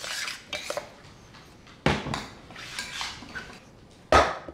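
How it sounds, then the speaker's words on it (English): Pot of chickpea curry with coconut milk set back on the stove, with metal clanks and scrapes of pot and utensils, two sharp knocks standing out among softer stirring sounds, close by. "Let's put this back on the heat."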